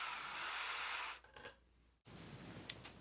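A power drill boring a hole into a ceiling to mount a Kidde FireX smoke alarm, a loud steady whine for about a second that cuts off, followed by quieter handling noises.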